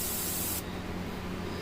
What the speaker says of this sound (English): Got my white ink loaded up in my airbrush.